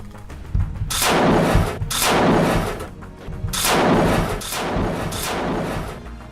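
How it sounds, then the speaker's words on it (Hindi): Bursts of automatic machine gun fire aimed at a distant Israeli army watchtower: four long, heavy rattling volleys in quick succession, loud and booming, separated by short pauses, with no talking. "ऑटोमेटिक मशीन गन से कई हमले कर देता है"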